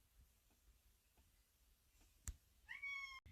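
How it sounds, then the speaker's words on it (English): A cat meows a couple of times, a short faint call followed by a longer drawn-out meow, against quiet room background. "My cat is meowing!"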